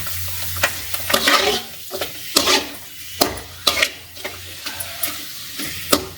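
Dried potato vathal crisps frying in hot oil, with a crackling sizzle broken by frequent sharp clicks and scrapes of a ladle against the pan, close and uneven in rhythm.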